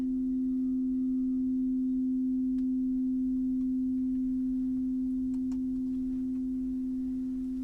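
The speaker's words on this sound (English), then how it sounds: "just leaving those singing bowls to ring out" Singing bowls ring out in a long, steady, pure hum that sustains evenly throughout with only faint clicks above it, slowly fading near the end.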